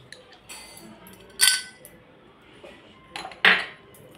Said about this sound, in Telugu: నెక్స్ట్ ఐస్ క్యూబ్స్ వేసుకుంటున్నానండి